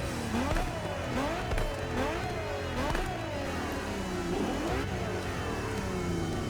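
A car engine revs up and down repeatedly in The Crew Motorfest video game, pitch climbing and dropping in quick cycles, with synthetic, game-like engine tones and no talking.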